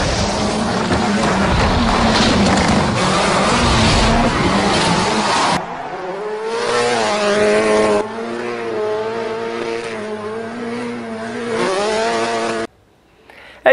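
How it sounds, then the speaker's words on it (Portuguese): A car with a newly rebuilt cylinder head, repaired after persistent misfiring, revs hard under acceleration on a test drive. Steady loud engine roar gives way to rising and falling rev sweeps, close and continuous. "Agora a gente vai dar aquele gás para ver se ficou bom mesmo."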